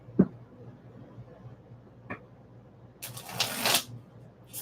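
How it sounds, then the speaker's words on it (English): Tarot cards shuffled by hand, a couple of short soft riffles early on, then a louder, longer burst of card flutter near the end, close and otherwise quiet with no talk. "So what's gonna happen is I'm gonna do a shuffle"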